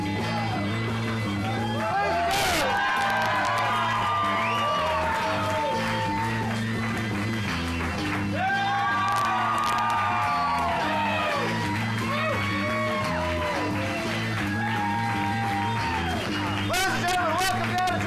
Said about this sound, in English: what a crowd tonight